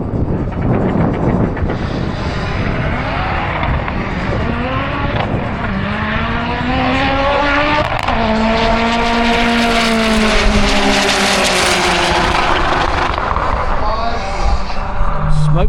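Volkswagen drag racing car at a Santa Pod Door Slammers qualifying evening making a run, engine loud and close, rising through gears with long climbing harmonic sweeps over steady crowd-and-track noise, with talk around it.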